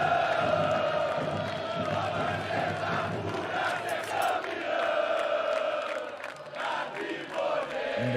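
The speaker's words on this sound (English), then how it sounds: "And the crowd is loving." A large esports arena crowd in Rio roars and cheers during a Counter-Strike playoff match between Team Vitality and BIG, a dense, sustained wall of shouting and whooping with swells and dips, no clear voices on top.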